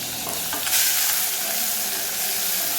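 Crushed garlic, shallots and curry leaves hitting hot oil, a loud bright sizzle that swells after a few stirring scrapes and then holds steady, close up.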